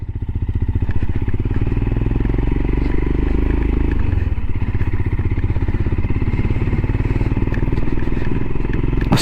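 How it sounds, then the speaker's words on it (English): Royal Enfield Himalayan motorcycle exhaust gives a loud, close, continuous rumble with rapid regular firing pulses throughout a ride, with slight clatter and no speech. "you just hear that exhaust, that little rumble behind you, and it's nice."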